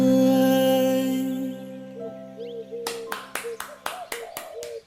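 A girl claps her hands about eight times in a steady rhythm, close by, after a sustained musical tone fades out.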